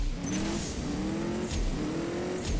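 A car accelerates hard through a speed trap in the CSR2 racing game's Hobbs and Shaw event. The engine note climbs steadily in three rising pulls with brief drops between gear shifts, loud and alone with no talking.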